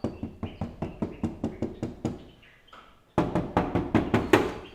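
Knuckles rap on the bare, uninsulated door panel of a 40 Series Toyota Troopy, a steady run of about ten quick, hollow knocks, a short pause, then another close, loud burst of knocks.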